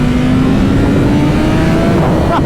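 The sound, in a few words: BMW M 1000 RR motorcycle engine at full throttle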